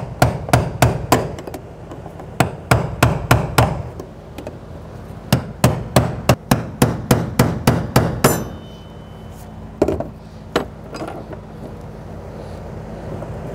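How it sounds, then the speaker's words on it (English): A brass punch is hammered against the fuel pump lock collar of a 2011–2023 Dodge Charger 3.6L V6, giving loud, sharp metallic strikes. They come in quick, close bursts with brief pauses, then a few sparse taps follow. "make sure you use a brass punch or the proper lock collar tool to loosen and remove that"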